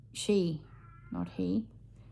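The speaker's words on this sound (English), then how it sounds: "Isn't Sarah's cat just adorable?" A house cat lets out two drawn-out meows, close and fairly loud, separated by a short pause in an otherwise quiet room.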